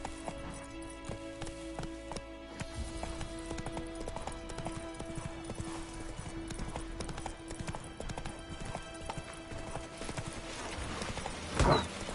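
A horse gallops in The Witcher video game, its hooves drumming in a fast, steady clip-clop rhythm under game music and ambience, with a sharp louder hit near the end.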